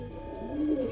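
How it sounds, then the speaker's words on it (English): Pigeons coo softly in an outdoor aviary during humid, swampy weather, a low throaty murmur rising over a steady background hum for under a second. "They're out in the aviary in the swamp weather that's going on."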